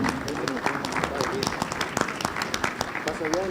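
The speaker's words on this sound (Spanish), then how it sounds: "Un aplauso para don Guillermo" An audience at an alternative energy expo in Puebla applauds to welcome a speaker, a brief burst of clapping mixed with talk over a public address system.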